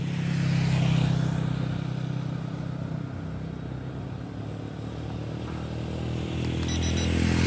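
Steady roadside traffic of many motorcycles, a continuous loud engine drone that swells and eases as bikes pass nearby, heard alone with no talking.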